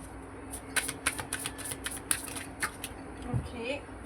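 Tarot cards being shuffled by hand, a run of quick papery riffles and flicks in close succession, fairly quiet and near, with a voice talking faintly behind.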